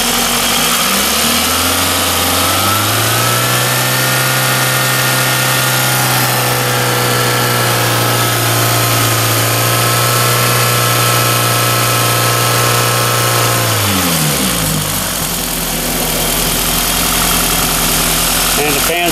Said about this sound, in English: And there's the fan.